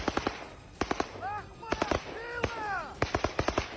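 Chechen fighters fire rapid bursts of gunfire into bushes while advancing in Ukraine, sharp cracks coming in quick clusters, with voices and shouting calls heard between the shots.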